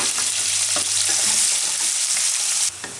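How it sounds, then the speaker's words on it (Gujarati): Onion stir-fried in hot oil for methi pulao, giving a loud, continuous sizzle close by. Intermittent scrapes of a spoon stirring run throughout, and the sizzle drops off abruptly near the end. "ડુંગળીને થોડીક વાર આમાં તેલમાં ફેરવી લઈએ."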